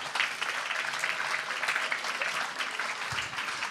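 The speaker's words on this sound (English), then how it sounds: "Give yourself a round of applause." An audience at a talk on Civil War music applauds after a sung spiritual, a dense, steady round of clapping heard up close that fills the whole moment.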